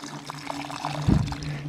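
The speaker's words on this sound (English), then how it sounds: "A quick pour of the fish emulsion" Fish emulsion fertilizer is poured from a container into a vertical planting tower of fall greens, a short close glug and splash near the end after quieter rustling.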